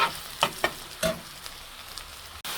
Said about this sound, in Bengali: একটু ব্রাউন করে ভেজে নেব।